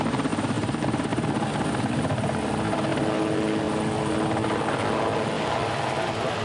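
A helicopter flies close by, its rotor beating out a fast, steady chop over a dense engine roar that stays loud and constant throughout.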